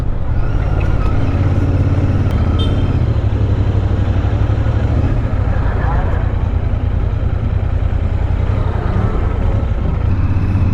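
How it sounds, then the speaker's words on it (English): Busy road traffic heard from a moving vehicle heading home, a loud steady engine and road rumble with passing cars and motorcycles throughout. "There is too much traffic today"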